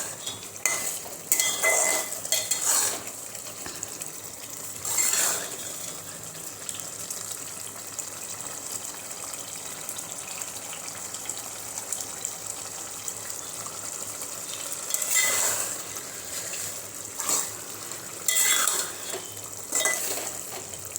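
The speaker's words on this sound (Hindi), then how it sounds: "तो इस तरह मसाला आपको भी भून लेना है।" Keema masala stirred and frying in a pan with added water, a steady close sizzle and bubbling throughout, with intermittent scrapes and clinks of a spoon against the pan.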